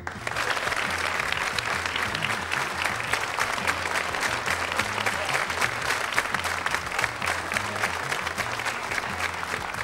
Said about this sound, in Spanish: Yo les pediría a todos ustedes, si son tan amables, un aplauso a mi gente que va a colaborar